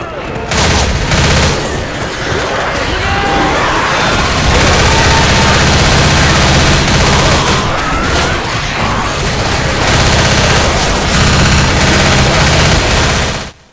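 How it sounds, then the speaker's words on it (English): Dense, loud gunfire from the zombie shooter game Left 4 Dead, with rapid overlapping automatic bursts and booms filling nearly the whole stretch, mixed with game chaos and occasional voices. "shooting zombies in the crotch works just fine as well"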